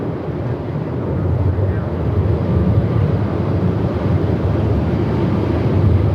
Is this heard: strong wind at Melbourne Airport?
yes